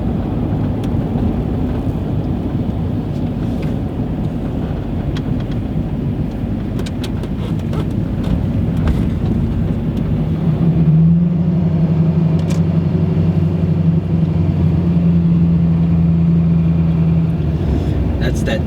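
A heavy vehicle drives with a loud, steady low rumble that continues throughout, and a deeper engine drone joins partway through as it pulls up. Someone talks over the engine noise.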